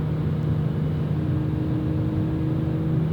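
A 2001 BMW M3 E46 engine pulls steadily while being driven hard, a sustained mid-pitched drone with a rising whine, heard from inside the cabin at a constant moderate level.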